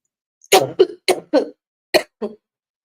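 A series of six sharp coughs from a persistent bad cough, close and loud, in two bursts with a short pause between them, during a live session.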